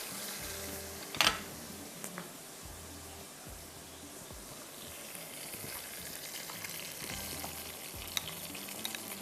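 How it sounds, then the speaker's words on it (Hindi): Ground tomatoes fry in cooking oil over a high flame, a soft steady sizzle with intermittent low stirring knocks and a sharp clatter early on. "ये टमाटर के साथ तेज़ आग पर ये भून जाएगा"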